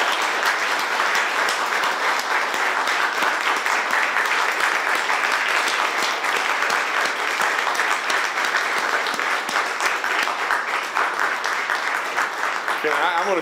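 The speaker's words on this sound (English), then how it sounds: "let's give them a giant round of applause, because they deserve that" A large audience applauds a graduating class at a governor's press conference, sustained dense clapping holding steady and loud for the whole stretch, with no speech over it.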